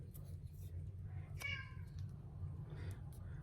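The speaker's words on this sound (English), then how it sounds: "And that's my cat saying feed me" A house cat meows once, a short, clear call heard over steady low background hum in a room where paper crafting is going on.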